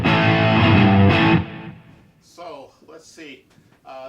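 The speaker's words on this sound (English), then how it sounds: "I've got my Marshall DSL15C here, and it's cool." Gretsch Electromatic Pro Jet G534TG two-tone electric guitar through a Marshall DSL15C amp, clean channel driven into distortion, ringing loud and sustained for about a second and a half before decaying, followed by a voice speaking.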